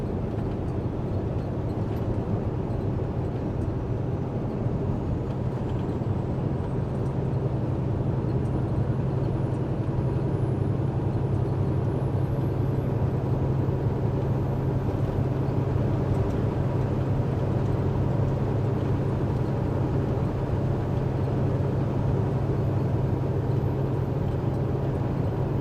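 A truck engine fitted with new injectors runs with a loud, steady low drone and constant rumble, unchanging and alone throughout.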